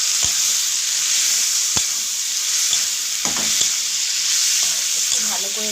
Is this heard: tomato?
yes